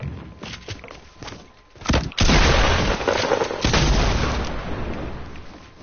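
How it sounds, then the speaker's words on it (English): A shotgun blast fired for a shotgun jump in a 50v50 video game match: soft thumps, then one loud, close boom that gives way to a sustained roaring rumble. "Shotgun jump."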